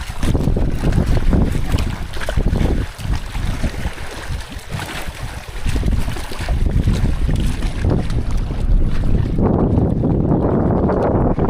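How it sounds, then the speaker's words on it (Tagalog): Waves slap a small boat on the Pantabangan Dam reservoir, with loud, continuous rushing water and heavy wind buffeting the microphone throughout. "lumalakas na yung alon ayan lumalakas na yung alon oh."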